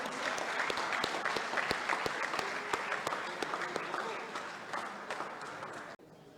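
Crowd applause for youth cricket team captains at a tournament launch, dense steady clapping from a nearby audience that runs loud for about six seconds and then cuts off abruptly.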